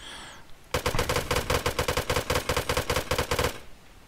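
Full-auto gunfire from a ranged weapon in the survival game Rust, a loud, close, steady stream of about two dozen rapid shots lasting around three seconds, with no talking over it.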